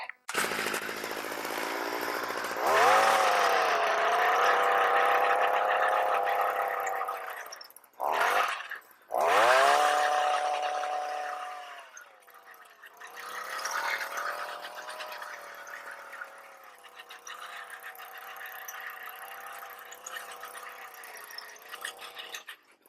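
A small Stihl tiller cultivator engine starts and runs with a buzzing, gargling two-stroke drone. It cuts out briefly, then restarts and keeps running close by, its pitch wavering as the throttle shifts.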